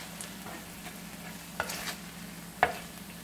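Small hamburger patties frying in a pan give a steady, quiet sizzle, with a few brief scrapes and taps as a spatula turns them.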